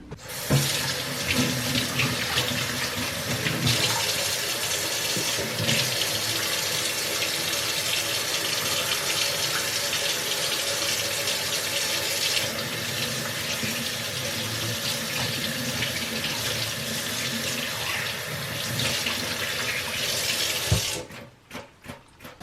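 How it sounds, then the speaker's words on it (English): Tap water runs steadily into a kitchen sink during handwashing, a loud continuous gushing stream lasting about twenty seconds before it is shut off and a few drips follow, with no voices. "right now we're going to wash our hands before we cut anything"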